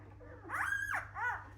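A three-day-old wolfdog puppy whimpers while held head down, giving one long rising-and-falling cry and then a shorter second one, close and clear over a low steady hum.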